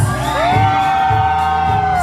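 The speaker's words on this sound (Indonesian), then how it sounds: "saya mau dengar teriakannya yang keras" A loud crowd at a Puteri Indonesia 2020 talk show in Blitar whoops and cheers, with sustained high shouts and screams over a dense, steady roar of voices.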